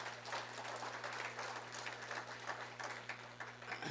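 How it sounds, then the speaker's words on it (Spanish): A church congregation clapping, a steady wash of applause from a roomful of people held over a constant low electrical hum, lasting a few seconds. "Denle un aplauso a Él"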